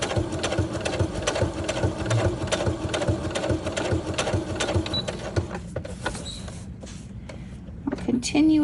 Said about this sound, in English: I'm going to switch back to my straight stitch and continue on